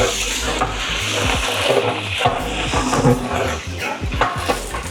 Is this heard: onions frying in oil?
yes